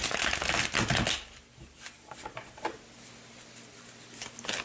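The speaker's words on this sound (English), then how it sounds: "So let's pull the first couple of cards to see their current emotional energy towards you." A deck of tarot cards is shuffled in a quick, crisp riffling burst up close. Scattered soft taps and slides follow as cards are drawn and laid down.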